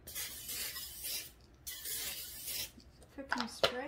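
Cooking spray hisses onto an oven pan in two short bursts close by, followed by light scraping and the clatter of handling the pan.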